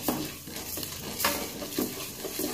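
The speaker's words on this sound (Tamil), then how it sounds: "இப்போ நம்ம எடுத்து வச்சுருக்க மிளகு, ஜீரகம், வெந்தயம் இதை போட்டு நல்லா வறுத்துக்கலாம்." Whole black pepper, cumin and fenugreek seeds being dry roasted and stirred in a kadai, a steady dry scraping and rustling with rhythmic stirring strokes, close and fairly loud, no voices.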